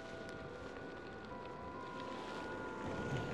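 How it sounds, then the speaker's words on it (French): A Kingsong S16 Pro electric unicycle at speed emits a thin, steady motor whine riding over heavy wind rush, continuous and fairly faint throughout. "Par contre, le moteur il fait un bruit."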